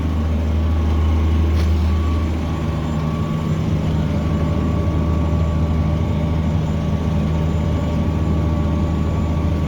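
Tractor engine pulling a fertilizer applicator through a field at about 6 mph under heavy load, a loud, steady low diesel rumble that holds constant throughout without speech.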